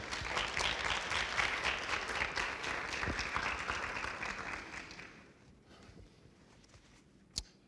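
An audience claps to welcome panelists at a Highline College event, with steady, dense applause that gradually thins out and fades, and a single sharp knock near the end.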